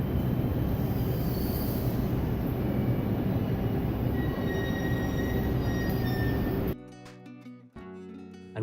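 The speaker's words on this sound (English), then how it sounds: "This is a rapid train," A Japanese rapid train rumbles steadily along with a dense, constant roar and faint wheel whine, then the noise abruptly drops to a quieter interior hum near the end.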